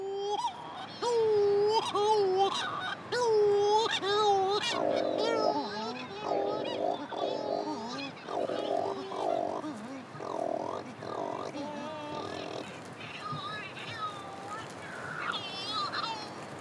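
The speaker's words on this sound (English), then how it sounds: "These Coris shearwaters that wail like infants nest at night under the jumble of rocks." Cory's shearwaters call from rocky nesting ground on the Corsican coast, with repeated wailing, honking cries rising and falling, fairly close, under a voice.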